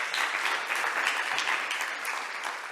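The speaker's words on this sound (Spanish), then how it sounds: "te vamos a despedir con un fuerte aplauso" An audience gives sustained applause in a lecture setting on eco-social education, steady and dense from start to finish as a farewell to the speaker Luis.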